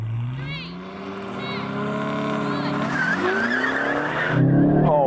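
Aston Martin cars, a Valkyrie, a Vanquish and a V12 Vantage, accelerate off the line in a drag race. Engines rise steadily in pitch through the gears, loud and close, with a rushing roar and faint tire noise.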